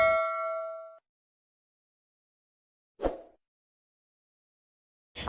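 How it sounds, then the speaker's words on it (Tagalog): A single bright bell-like ding rings and fades after a second, then silence broken by two short clunky plop-like hits. "click subscribe and hit the notification bell"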